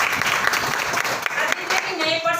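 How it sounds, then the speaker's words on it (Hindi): An audience at an Intergold education meeting applauds trainer Seema, a loud, dense burst of clapping filling the room alongside voices. "एक बार सीमा जी के लिए जोरदार तालियां"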